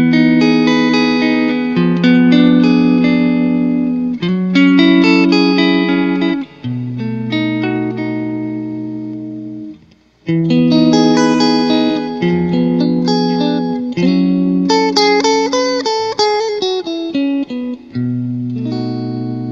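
An Ibanez SA electric guitar played through a Blue Angel amp and effects pedals, ringing chords and melodic lines with heavy effects and reverb, loud and continuous.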